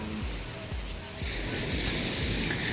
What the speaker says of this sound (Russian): Волны немножко стихли.